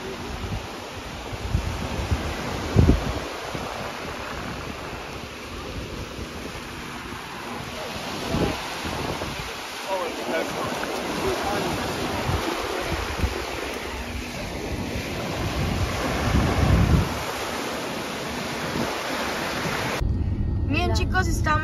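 Wind buffets the microphone on the beach at Naples, Florida, with a broad rushing wash of surf underneath, loud and continuous, while someone talks over much of it.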